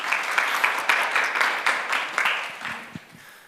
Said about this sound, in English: So a round of applause for Jonas.